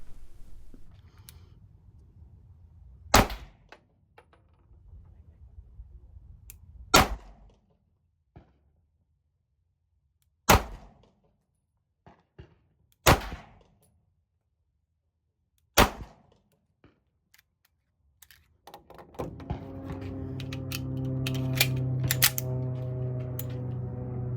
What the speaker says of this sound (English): let's go ahead and roll in the footage of that shooting